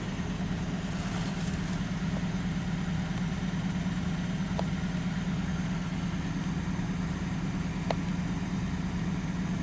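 A 1940 LaSalle Series 52 engine idles steadily nearby, a low even hum with a few faint ticks, no voices.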